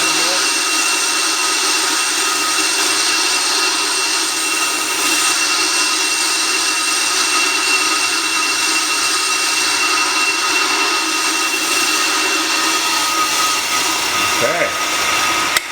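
A Pro Cut PFM 9.0 brake lathe auto-feeds while cutting a brake rotor, giving a steady loud whine and hiss that runs unbroken with a faint whirring tone, a short rising whistle near the end.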